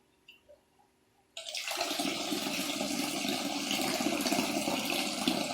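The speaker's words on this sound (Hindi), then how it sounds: "भगवती गंगा की कलकल ध्वनि के बीच में" Flowing water of the river Ganga at a riverside ghat, a steady broadband rush that begins abruptly after a second of near quiet and then continues evenly, close and fairly loud.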